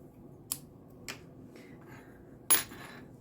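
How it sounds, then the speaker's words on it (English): Scissors cutting crochet working yarn, a few faint crisp snips in a quiet room, the last one sharper and louder. "and then I cut my working yarn"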